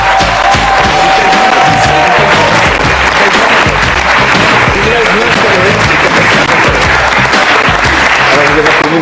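Loud studio audience applause on a French TV game show welcoming a family of inventors, dense steady clapping filling the whole stretch at close range with some crowd noise.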